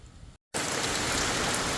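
Steady heavy rain falls during a typhoon, a dense continuous hiss that cuts out briefly for a split second before resuming at full strength.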